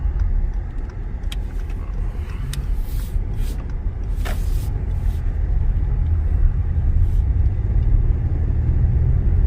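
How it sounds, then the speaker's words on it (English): An Acura TLX A-Spec SH-AWD accelerates hard on snow and ice, heard from inside as a steady loud engine and road rumble that builds slightly, with a few brief clicks and knocks over the drone. "if you want to put it to the floor, you can accelerate really quick, even though it's pure snow and ice"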